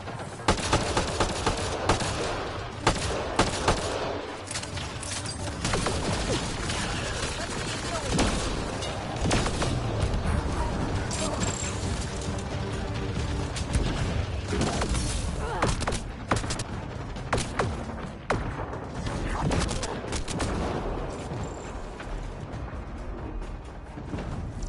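Sustained combat gunfire in Mass Effect Andromeda: loud, continuous bursts of automatic weapon fire with heavy impacts and booms, persisting throughout with little letup.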